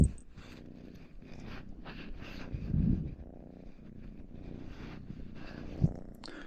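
A cat purrs close up in a low, steady rumble, mixed with a few rustles and rubbing noises.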